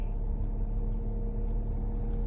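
Emzoom R Style motorcycle exhaust with the muffler opened, a steady low idling rumble held close and loud with no pauses or revving and no talk.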